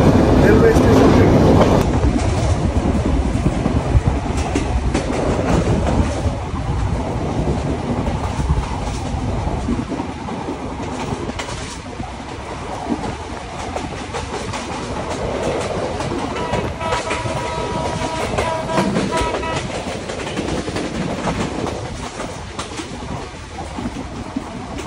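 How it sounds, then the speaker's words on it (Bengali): The Ruposhi Bangla Express passenger train pulls out of Benapole railway station at night with a loud, steady rumble and clatter of wheels and carriages that eases slightly as it moves off, while faint voices carry in the background. "আমাদের রূপসী বাংলা এক্সপ্রেস ছেড়ে যাচ্ছে বেনাপোল রেলওয়ে স্টেশন থেকে।"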